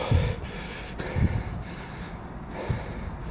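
Heavy, labored breaths from a person out of breath after running an obstacle course, several loud rasping inhales and exhales coming in uneven bursts close to the mic, with no talk.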